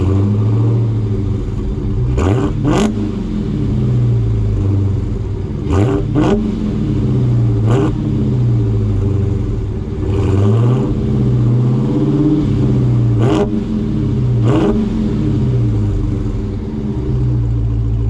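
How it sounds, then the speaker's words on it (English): A Dodge Charger Hellcat with its active exhaust valves fully open revs repeatedly, loud and close, each throttle blip rising sharply over a deep burbling idle in a steady rhythm of about six revs. "So now these valves are all the way open, and I'm gonna give you some gas"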